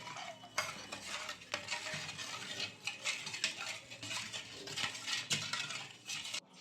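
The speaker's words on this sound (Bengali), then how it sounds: "নুন চিনিটা গুলে নেবো।" A spoon stirs salt and sugar into water in a bowl, making a steady, faint scraping and clinking with small regular taps against the sides.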